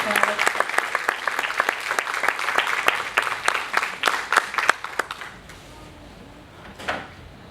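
A seminar audience gives a short round of applause, with distinct individual claps close by that thin out after about five seconds, leaving quiet room tone and one last faint clap.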